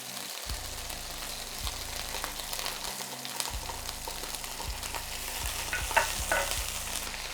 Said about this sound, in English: And we give that a bit of a stir.